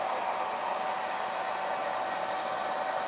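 A hair dryer blows steadily on hair, a constant close whooshing roar with no pauses and no voices.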